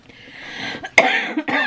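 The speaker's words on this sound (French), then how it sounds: "Mon Dieu, cette vilaine toux." A lingering, harsh cough from a person recovering from Covid, heard close up as a rough throat sound followed by a couple of sharp coughing bursts, with no talk.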